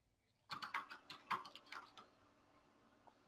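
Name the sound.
quiet typing on a computer keyboard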